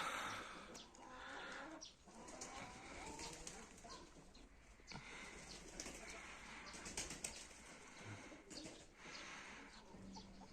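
Young pigeons lifting off on one of their first flights, a flurry of wing flaps and soft coos mixed into a steady outdoor rustle, with bursts of flapping rising and falling throughout.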